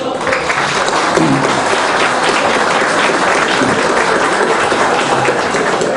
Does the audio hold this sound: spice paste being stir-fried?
no